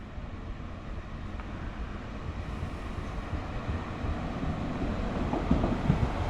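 Steady low rumble heard from inside a train heading out of Nantwich towards Wem, a continuous rolling drone with mild wind noise that grows slightly louder, with a few faint knocks near the end.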